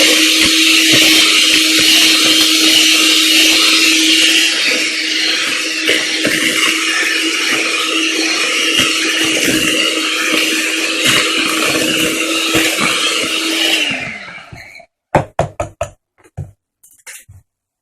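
Cheesecake batter with sugar being mixed by an electric mixer, a loud, steady motor whine running for about fourteen seconds before cutting off, followed by a few sharp knocks and taps.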